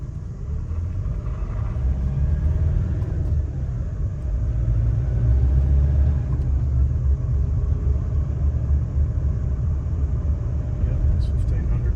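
A Nissan Navara engine pulls at wide open throttle in third gear, a loud, steady low rumble that builds gradually over several seconds with a faint voice beneath it.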